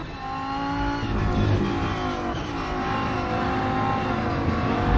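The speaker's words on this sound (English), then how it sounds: "Immediate note is on the engine sound," Race car engine in the Rennsport racing game, a loud sustained rev that climbs and dips in pitch through gear changes with a harsh, buzzy tone and no voices.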